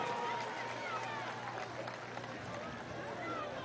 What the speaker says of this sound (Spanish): Aplauso para la gente de hora allá atrás